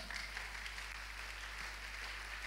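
A church congregation applauding during a Sunday worship service, a steady, fairly faint wash of many hands clapping together with no clear break.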